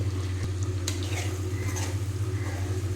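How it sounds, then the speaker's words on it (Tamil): Goat brain pieces fry in a pan under gentle stirring, making a soft, steady sizzle over a constant low hum, with occasional light utensil taps and clicks. "லேசாக கிண்டுவோம் ஏன்னா மூளை வந்து அப்படியே உடஞ்சிரும்"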